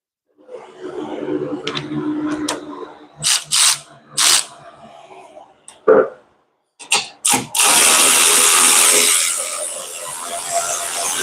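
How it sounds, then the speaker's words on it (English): A cordless ratchet works bolts loose on a coyote-swapped Fox-body, giving short bursts of mechanical whirring and clicking with pauses between them, followed by a longer, steady hissing whir, close up and with no talk. "Cordless ratchet activate."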